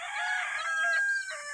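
Chickens crow and cluck close by, a single strained rooster crow rising loud and clear over a brief burst of clucking, with no talk.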